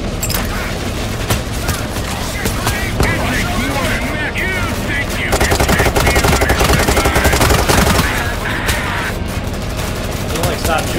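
Sustained automatic gunfire in Payday 3 during an armored truck heist with police: dense, rapid bursts of shots stacking into a nearly continuous loud barrage, with a voice talking over it.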